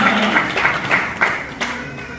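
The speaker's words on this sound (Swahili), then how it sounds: "Pigie Mungu makofi." A church congregation at a revival service clapping for God, a few rhythmic bursts of handclaps that are fairly close and moderately loud, tapering off.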